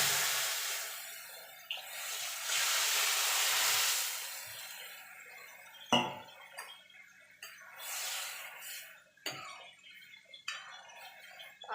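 Red lentils for masoor dal poured into a hot cooking pot, a loud hissing sizzle and splashy pour that rises and fades, followed by a few sharp clinks and softer bursts of sizzling, with no talk.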